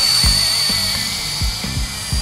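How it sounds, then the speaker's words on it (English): A Helimax Novus FP 200 RC helicopter in flight, its tail rotor motor whining as a high, steady tone over the rotor's low rhythmic chopping, with the pitch shifting as it works. "you can really hear that tail rotor motor getting the workout."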